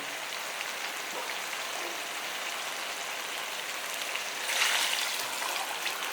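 Steady splashing of water being poured into a pot, a continuous hiss that swells louder near the end.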